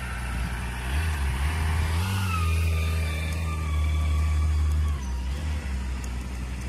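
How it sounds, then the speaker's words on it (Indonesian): A BMW car's engine runs steadily as it is loaded onto a tow truck, a loud, close engine drone with slight rises in revs and a continuous mechanical hum throughout. "Dan kita langsung masukin ke mobil towing kita nih."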